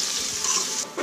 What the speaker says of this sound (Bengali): এই পেঁয়াজটা আমি ভালো করে হালকা একটু লাল লাল করে ভেজে নেব।